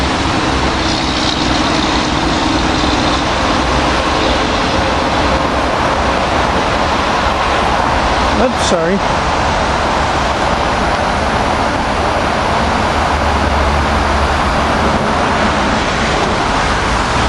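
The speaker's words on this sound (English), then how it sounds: "Here we got SEPTA train 754 coming in, going to Chestnut Hill East from Trenton" SEPTA train 754 rolls into Cornwells Heights station at rush hour after rain, a loud, steady rumble of wheels and cars running unbroken throughout, with one sharp brief noise midway and a voice speaking briefly.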